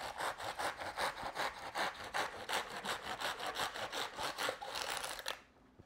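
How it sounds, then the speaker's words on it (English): A serrated knife saws back and forth through the tough top leaves of an artichoke, giving close, rhythmic rasping strokes for about five seconds before stopping abruptly. "I'm going to trim off about the top third of the artichoke leaves off the top, sawing back and forth and turning the artichoke occasionally if needed"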